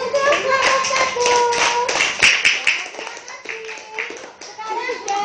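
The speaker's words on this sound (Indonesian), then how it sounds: "Tepuk tangan untuk kelompok 1." Children in a classroom clapping for a group of classmates, a bright, uneven round of quick hand claps, near and lively, with young voices speaking through it.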